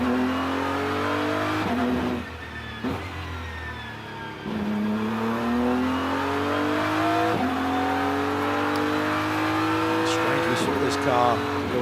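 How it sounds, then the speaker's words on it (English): A GT race car circulates at Indianapolis during qualifying for an 8-hour endurance race in the Intercontinental GT Challenge and Fanatec GT America, its engine rising through repeated upshifts, loud and close with a slight fade as it passes. A commentator talks over it. "Car going relatively slowly, hitting pit lane, just 3 minutes left on the board."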